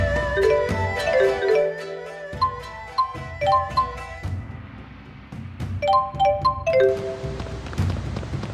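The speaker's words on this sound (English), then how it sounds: "We heard the bell." Bell chimes ring out in repeated bright, clear strikes in the Tales of Xillia video game, in two separate runs of tolling over soft game ambience.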